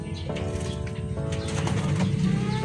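Pigeons in the breeding section of a loft coo at feeding time, steady layered low coos close by under a constant murmur of other birds, with no talk.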